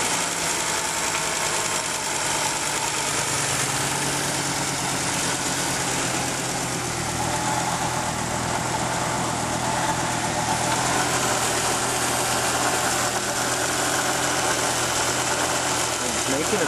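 Idling engine of a 1987 Audi 4000S with a lifter tick, a steady rumbling idle laced with fast, even mechanical ticking, close and continuous.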